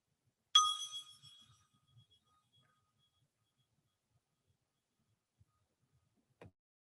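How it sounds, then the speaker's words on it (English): A single bell struck once at a worship service gives a bright, clear ding that rings out and fades over about a second, followed by near silence with a few faint small sounds. "as I ring the bell and we light the chalice."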